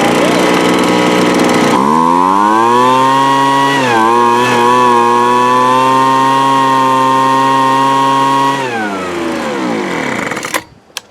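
An old 1998 Craftsman leaf blower engine fires up and runs loud and close, its buzzing two-stroke whine rising to a steady high idle, dipping briefly, then winding down near the end.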